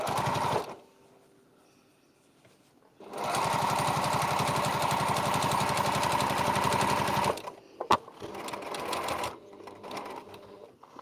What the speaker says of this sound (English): And now we're going to sew straight to the other corner.